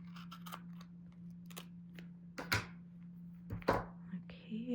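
Scissors cut through very sticky tape for a journal's book spine: a few sharp, close snips and crinkles over a steady low hum.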